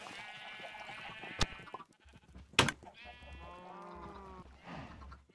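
Blocky game sheep in a Minecraft 1.7.9 sheep farm let out repeated wavering bleats, several overlapping calls with short pauses and a couple of sharp clicks between, fairly quiet and free of talk.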